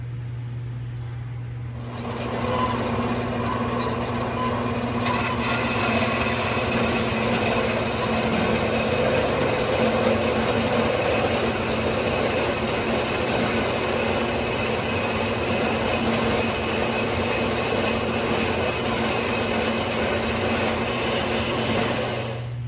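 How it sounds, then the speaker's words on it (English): A bandsaw cuts through metal stock in a fabrication shop, starting after a short quiet moment and then running as a steady, loud, continuous mechanical whir with an even hum for the rest of the stretch. "Cut it off in the bandsaw."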